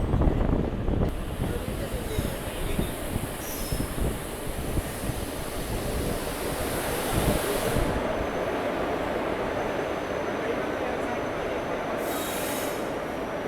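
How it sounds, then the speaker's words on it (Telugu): The Narasapur–Charlapalli weekly express pulls into Veeravasaram railway station on its inaugural run, loud rumbling wheels and clattering carriages with sharp high squeals from the rails, continuous and close. "పూర్తిగా 19 నిమిషముల ఆలస్యంగా మన చర్లపల్లి వీక్లీ ఎక్స్ప్రెస్ అరైవల్ తీసుకోవడం జరిగిందండి"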